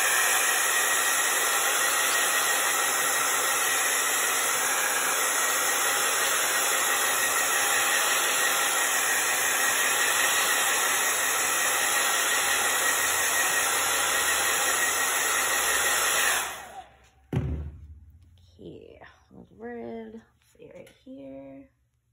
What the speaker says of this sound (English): So I'm gonna blow them dry and then I can paint them red